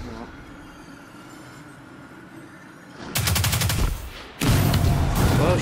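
Power weapon gunfire in the Destiny 2 video game, two loud sustained bursts of rapid fire that follow a quieter stretch of game ambience, with a voice speaking nearby.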